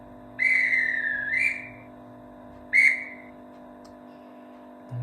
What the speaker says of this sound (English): What about the dispatch whistle?